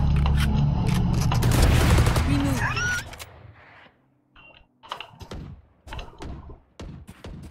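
Gunfire in the video game Valorant: a dense burst of rapid shots and booms over game sounds in the first three seconds, then quieter scattered clicks and thuds.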